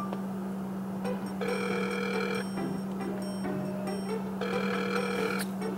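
A telephone rings out unanswered, with repeated bursts of a ringing tone separated by short pauses over a steady low hum, loud and close.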